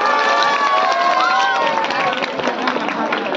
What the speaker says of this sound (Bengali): রাকিব স্যারের জন্য একবার জোরে হাততালি দেবে।